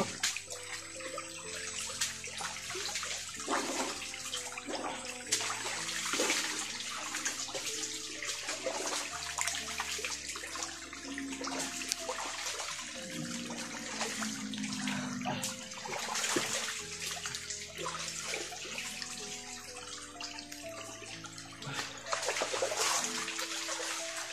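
Water rushes and splashes continuously, a steady broadband flow with gurgling bursts, close by, and faint musical tones underneath.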